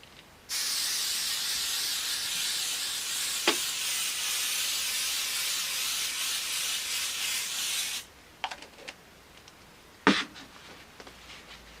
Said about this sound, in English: And I just put a little bit of spray.